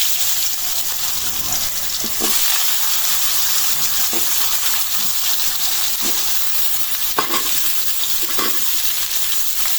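Potatoes frying in oil with dried chili and cumin give a loud, steady, close sizzling hiss, with a few soft clinks of a spoon against the pan.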